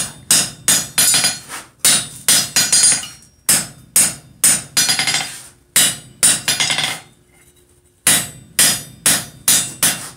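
Hammer blows ringing on hot steel while forging box jaw tongs, loud close strikes in quick rhythmic bursts of three to five, with a short pause before a final flurry.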